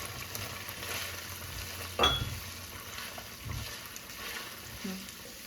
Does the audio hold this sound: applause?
no